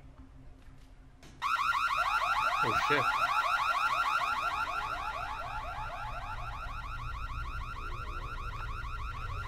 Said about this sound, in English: Someone ping Cassini to shut that fucking alarm off